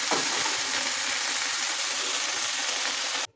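Spinach tipped into a pan of frying taro and potato gives a loud, steady hiss of hot oil that fills the clip, then cuts off abruptly near the end.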